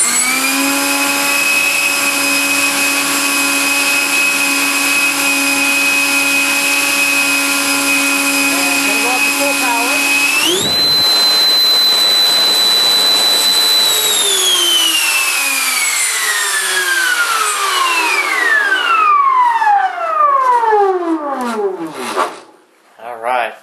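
Ramtec/Scorpion electric motor on 50C LiPo packs runs a half-power thrust test, a loud steady tonal whine that jumps sharply in pitch midway, holds, then spools down near the end.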